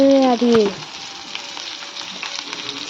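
Shigur chutney is stirred in a pan on the stove, a soft, steady sizzle with faint scraping after a brief voice-like tone at the start.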